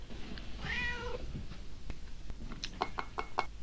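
A cat gives a single drawn-out meow over steady background hum during a TV drama scene, followed by a quick series of light knocking taps.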